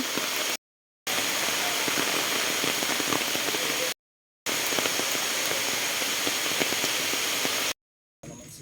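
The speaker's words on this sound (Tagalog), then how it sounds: "pauwi na kami dahil lumalakas ang ulan" Steady, dense heavy rain pouring down without pause at a waterfall eco-farm resort in Luisiana, Laguna, broken by brief gaps of silence; no voices.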